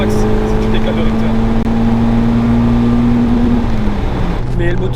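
Peugeot 106 XSI engine revving toward 7000 rpm: a loud, steady rising engine drone heard from inside the car, holding high then easing off near the end, with voices talking over it.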